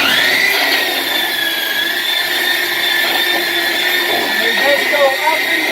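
Power tool routing or belt sanding wood during a school bus conversion, a continuous high-pitched whine with steady grinding noise, close and loud, with no break.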